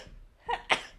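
A single sneeze, close and fairly loud, with a short inhaled lead-in followed by a sharp burst, in a quiet indoor setting.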